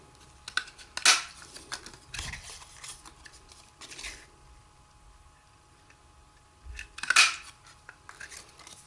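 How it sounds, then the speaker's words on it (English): A tiny tag punch cuts paper tags out of stamped cardstock with two sharp, close clicks several seconds apart, separated by quiet handling rustles. "We're now going to cut those out with our tiny tag punch."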